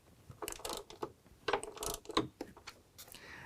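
Ratcheting clicks from an 8mm socket tightening the ground wire bolt on a 2021 Ford F-150 wiring harness, coming in short close bursts with brief pauses between them.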